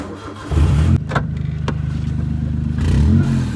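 A vehicle engine cranks and fires up during a village Shimga festival, settling into a loud, close, pulsing exhaust rumble from the silencer with a couple of sharp clicks over it.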